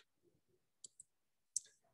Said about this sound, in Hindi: ये क्लिक कर देता हूं